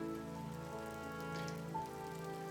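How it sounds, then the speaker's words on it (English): Steady rain falls as a soft, continuous patter, even and unbroken over a low background hum, fairly faint throughout. "Dogs aren't afraid of the rain."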